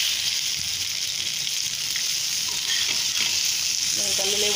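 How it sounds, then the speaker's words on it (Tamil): Fish fries in hot oil on a stone griddle, a steady close crackling sizzle running throughout with small pops and bubbling near the end. "எண்ணெய் நல்லா சூடாகிட்டு மீன் எல்லாம் நல்லா சூப்பராக வறுத்து வந்துருச்சு"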